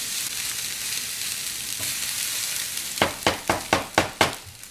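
Kimchi cheese fried rice sizzles steadily in a hot wok, then a run of about six rhythmic scraping tosses cuts sharply through the frying hiss, close and loud, with no voices.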